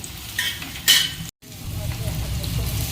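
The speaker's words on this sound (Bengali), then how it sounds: "এইবার তেল ওপর থেকে এইভাবে চামচের সাহায্যে দিয়ে দেব।" Hot oil is spooned from a large wok over frying potato snacks, a close steady sizzle and bubbling with spoon clinks and a brief splashing burst, cut by a short silent gap.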